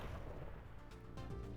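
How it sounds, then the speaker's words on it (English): A muffled, low rumbling boom from an explosion in the game Ghost Trick: Phantom Detective, quiet and heavy in the low end with a couple of duller thuds trailing off, no voices present. "I think I heard an explosion somewhere"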